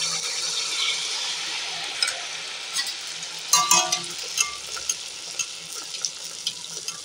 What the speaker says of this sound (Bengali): আমি একটা কড়া বসিয়ে দিয়েছি, কড়া তেল হয়ে গেছে। আমি এবার এই ব্যাটারটাকে দিয়ে দেবো